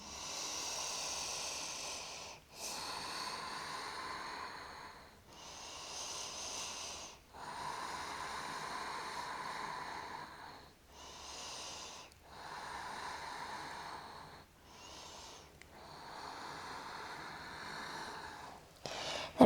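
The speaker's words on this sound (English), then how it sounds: "We're going to hold for 4 more breaths, breathing through the nose." Slow, deep nasal breaths during a held yoga pose, each inhale and exhale a soft airy hiss close to the ear, repeating in an even rhythm with brief pauses between.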